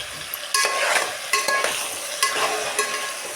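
Potatoes, carrots, ivy gourd and okra frying in a pan, loud sizzling broken by repeated scraping stirs at a steady rhythm, close and with no voices.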